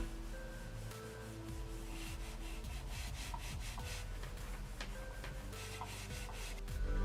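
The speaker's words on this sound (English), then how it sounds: "It actually sounds like the plastic is rubbing on the pad" Plastic feet of a SteelSeries Rival 100 gaming mouse scraping across a mouse pad, a faint, close, continuous rubbing hiss with light clicks and shifts as the mouse is moved back and forth.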